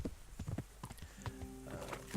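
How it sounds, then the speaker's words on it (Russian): Horse hooves clop irregularly in the Kingdom Come: Deliverance video game, several quick steps, then a drawn-out whinny with a clear tonal quality near the middle, moderately close. "Лошадь застряла в кустике."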